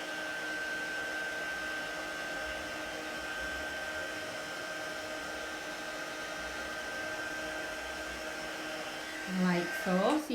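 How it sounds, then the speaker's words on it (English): A heat gun held still over embossing powder on a floral card gives a steady, even blowing whir, and a voice comes in briefly at the very end. "So I'm just going to hold my heat gun still."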